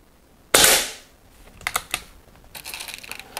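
An Air Arms S400 air rifle fired: one sharp, loud crack with a short decaying tail, followed by a run of quick, light mechanical clicks and ticks nearby.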